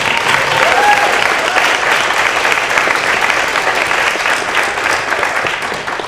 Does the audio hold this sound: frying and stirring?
no